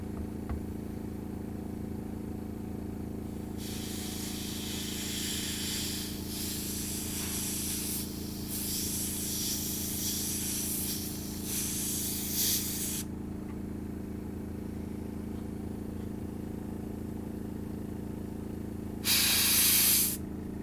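An airbrush sprays paint onto the unprimed blades of a demon monk miniature figure, giving a long bright hiss broken by brief pauses and then a short final burst, all over a steady low hum.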